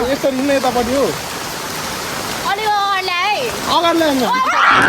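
Steady rain falls outdoors on the way to a temple in Nepal, a continuous hiss under close, lively voices of people chatting throughout.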